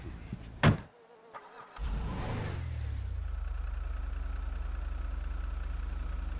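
Car engine in Grand Theft Auto V settling into a steady, continuous drone after a brief burst of noise, holding loud and even to the end with no talk.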